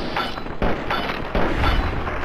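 Gunshots in Fallout 3, several heavy booming reports spaced apart over a steady background, loud and close, with no talk.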